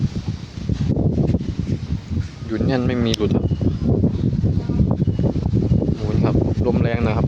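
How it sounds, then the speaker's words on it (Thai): Wind buffeting a phone camera mounted high on a motorcycle, a steady loud rush that runs throughout under someone talking. "มีเสียงลมมีแต่เสียงลมนะครับ"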